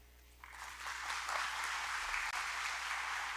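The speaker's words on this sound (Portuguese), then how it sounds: "vamos reforçar as palmas para vocês, mulheres, agora" A crowd of women, magistrates and court staff applaud at a women's committee event, with steady clapping that starts abruptly and continues evenly at moderate distance.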